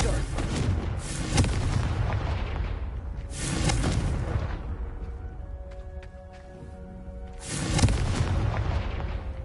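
Confringo explosive spell blasts in Hogwarts Legacy: three heavy booming bursts, each rolling out into a rumbling decay, separated by quieter stretches with faint tonal game sounds.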